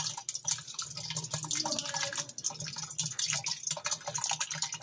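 Water runs and splashes into a strainer while guava agua fresca is made in a home kitchen, a continuous light trickling pour with small drips.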